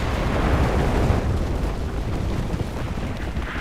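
Artillery strike explosions rumble in a co-op video game, a continuous loud roar of overlapping booms and bursts with no pauses, dense and close throughout.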